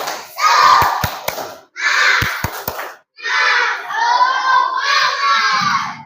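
A class of schoolchildren in Indonesia shouts a loud rhythmic chant in unison, broken by quick bursts of sharp, synchronized hand claps, with short pauses between phrases.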